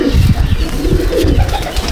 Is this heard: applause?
no